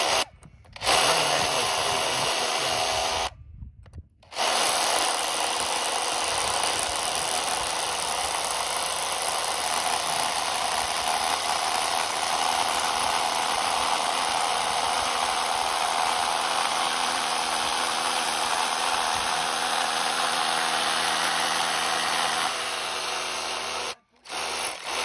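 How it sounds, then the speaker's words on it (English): A power drill bores into rock right beside a glue-in climbing bolt, a loud continuous grinding whine that runs almost unbroken, stopping briefly near the start and again near the end. "I'm going to take this and drill a hole right against the bolt all the way to the back"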